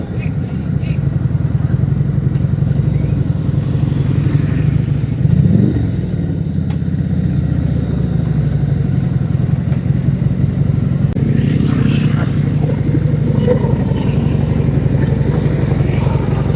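A Victorino 250cc motorcycle engine rumbles steadily and loudly throughout, with a low throaty exhaust note and a brief rev partway through.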